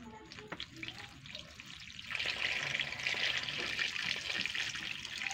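Water pours into a hot pot, rising into a steady hissing sizzle after a couple of seconds of quieter bubbling.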